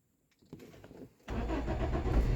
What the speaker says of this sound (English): start this engine